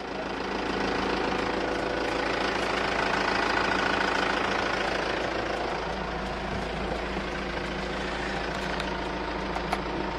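Engine of an Isuzu ELF NLR55 LX bus idling, a steady, loud low rumble with a continuous knocking diesel texture that holds evenly throughout, no one speaking.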